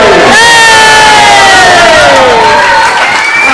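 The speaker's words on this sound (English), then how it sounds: "give him a huge round of applause" A loud crowd cheers and whoops together, with rising and falling shouted voices filling the space.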